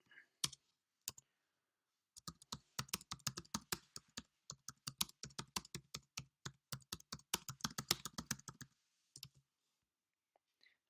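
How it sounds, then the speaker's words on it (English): Fingers type steadily on a computer keyboard, a quiz question being entered in a sequence of quick, close key clicks with brief pauses, quiet and alone. "Then here I can basically type in a question."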